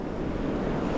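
Ocean surf washes steadily onto an empty beach in New Hanover County, North Carolina, a broad continuous roar with wind buffeting the microphone throughout the short stretch.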